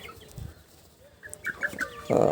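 Chickens on a small poultry farm give a few short, moderately loud clucks spaced through the moment, ending in a louder burst of clucking, with a quiet background.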